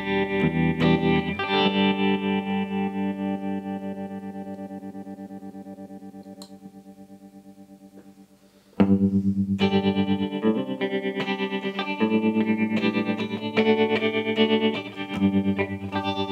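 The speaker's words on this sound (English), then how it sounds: "that is the Empress FX tremolo pedal" Sustained electric guitar chords through an Empress Effects tremolo pedal, with a pulsing, wavering volume, fading out before a fresh strummed passage kicks in, all heavily effected with no talking.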